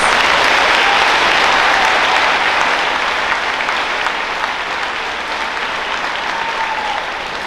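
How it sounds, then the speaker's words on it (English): Audience applause at a high school faculty awards ceremony for recipient Hannah Summers, a loud, continuous crowd clapping that eases slightly toward the end. "Everybody give her a round of applause as Hannah Summers."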